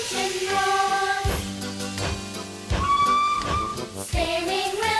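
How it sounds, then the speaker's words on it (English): Cartoon steam train whistle blowing in loud, sustained tonal blasts, several separate whistles in succession with hissing steam between them, set against music. "Whistle blows and the engine roars."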